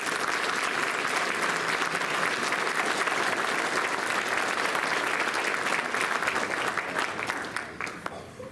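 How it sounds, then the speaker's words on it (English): Full audience applause at a school spring band concert, a thick, even wash of many hands clapping that holds steady and then begins to thin and fade near the end. "Let's give all of them a round of applause."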